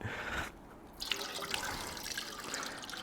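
Coolant pours and trickles out of the radiator of a 2017 KTM 150 XC-W dirt bike as pressure is released from the cap, a steady close liquid splashing with a brief quieter gap early on.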